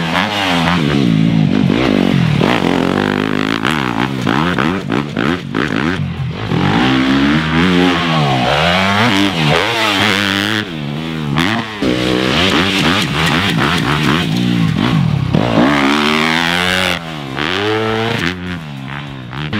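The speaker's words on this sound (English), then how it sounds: "Garrett Marchbanks' ClubMX Yamaha YZ250F is a rocket ship of a motorcycle" A Yamaha YZ250F motocross race bike revs hard and loud on a track, its engine rising and falling through repeated throttle blips and gear changes, with no speech heard.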